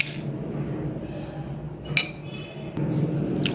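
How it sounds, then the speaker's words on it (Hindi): A tablespoon adds coffee to a bowl for a homemade face scrub, giving a few soft metallic clinks and taps of spoon against bowl over a low room hum. "इस बोल में मैं बनाऊंगी अपना face scrub, and for that I need coffee और कोको पाउडर। अब इसमें मैं 1 टेबलस्पून कॉफ़ी डालूंगी"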